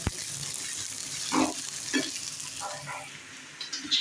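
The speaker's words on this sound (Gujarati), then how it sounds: "હવે ડુંગળી ઘડીક તેલમાં તળવા દેવાય" Steady sizzling of onion frying in hot oil, close by, with a few soft stirring scrapes and no talking.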